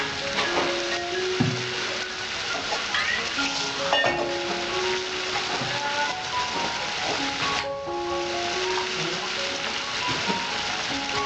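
Prawn malaikari with ghee cooking in a pan in a Bengali kitchen, giving a continuous crackling sizzle with occasional stirring clinks, fairly close and steady, no talking.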